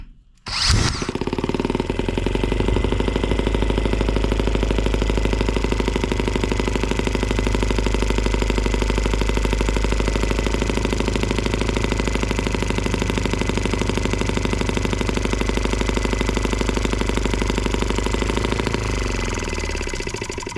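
An M12B engine running steadily on alternative fuel after its tank has been drained, a loud continuous mechanical drone that starts abruptly and holds level for about twenty seconds, with no talking.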